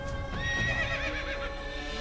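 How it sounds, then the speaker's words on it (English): A horse in the Assassin's Creed video game whinnies loudly while stuck in quicksand, a long wavering neigh over a steady game background, with faint hoof clops beneath and no talk. "My horse is stuck in quicksand!"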